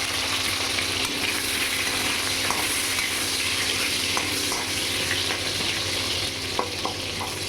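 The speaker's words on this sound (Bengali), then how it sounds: "তার জন্য দেবো ওতে আমি একটু তেজপাতা ফোড়নে দিলাম, আর আলুগুলো এবার আমি ভেজে নেব।" Potatoes fry in white oil seasoned with bay leaf, giving a steady, close sizzle with faint crackles and an occasional soft stir, no voices over it.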